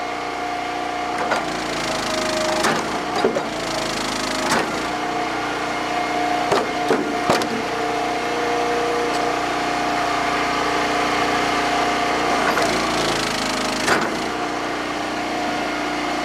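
An engine-driven Eastonmade log splitter idles steadily while huge knotty oak rounds crack and splinter under the ram, with several sharp wood snaps spread over a constant mid-pitched engine drone.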